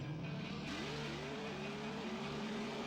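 A McLaren racing on snow in Top Gear Overdrive has its engine rising and shifting through revs in a continuous synthetic drone, faint but steady throughout with no talking.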